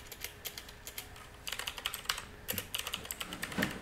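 Close, crisp keystrokes on a computer keyboard, starting as spaced individual taps and speeding into quick bursts of typing with short pauses between.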